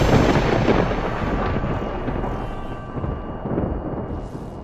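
A deep, sustained rumble of thunder rolls through a stormy rainstorm over a deserted forest, loud and close, with a steady wash of rain beneath it that slowly fades.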